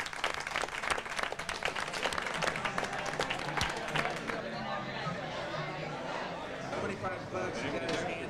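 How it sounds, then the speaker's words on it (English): Classroom audience claps in a dense burst that fades into chatter and murmuring voices as people start talking over the tail end. "Give Dennis a big round of applause."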